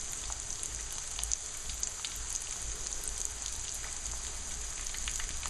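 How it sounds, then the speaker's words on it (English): Veal schnitzel sizzling in a frying pan, a steady close hiss of hot oil crackling evenly throughout with no talking. "you can see we got some sizzle action going on here"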